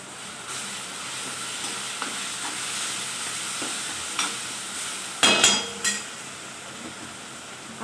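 Homemade masala is stirred into a frying green soybean curry mix in a pan, a steady soft sizzle with occasional spoon clinks and a few louder scraping knocks toward the end.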